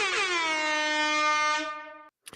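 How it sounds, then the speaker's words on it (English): An air horn sound effect blares once, a loud sustained brassy blast lasting about two seconds before cutting off. "Air horn."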